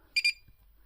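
A battery management system board under repair gives a quick double beep at close range, two short high-pitched tones in rapid succession, followed by near silence.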